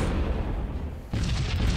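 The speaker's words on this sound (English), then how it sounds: "All cannons fire!" Starship cannons firing in the space strategy game Sunrider, a heavy booming blast that dips and then erupts into a second roaring burst, loud and close, with no voices over it.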